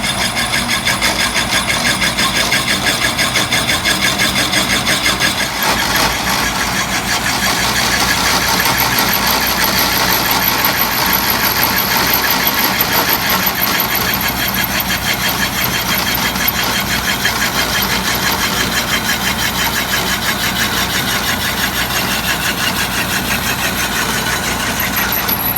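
A saw cuts a ring for a wrapped wooden bowl, a loud, steady, continuous whine with a rapid buzzing texture that runs unbroken the whole time, with one brief dip partway through.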